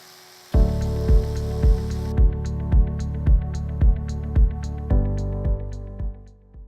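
Electric toothbrush switching on and running with a steady buzzing hum, its motor pulsing in a regular beat about every half second, close and clear, then dropping in pitch before fading off.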